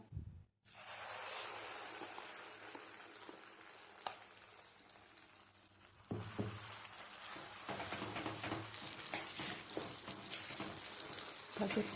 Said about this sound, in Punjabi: ਖਸਖਸ ਵਾਲਾ ਪੇਸਟ ਪਾ ਕੇ ਘਿਓ ਵਿੱਚ ਆਪਾਂ ਇਹਨੂੰ ਚੰਗੀ ਤਰ੍ਹਾਂ ਭੁੰਨਾਂਗੇ ਜੀ